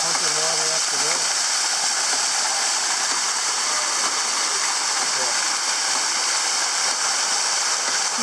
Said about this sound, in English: Now it's pumping water up the road.